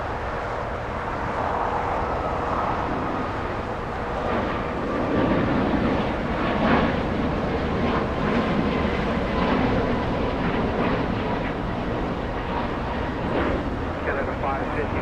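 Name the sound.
Boeing 737 MAX 8 with LEAP-1 engines taking off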